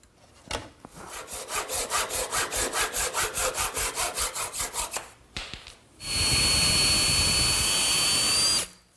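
A saw cuts through the top of a wooden side chair post in a quick, even run of about a dozen close strokes. After a short pause, a loud, continuous power-tool roar follows for nearly three seconds.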